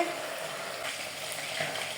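Chicken pieces for biryani frying in a pan, a steady close sizzle with soft stirring noises and no talking.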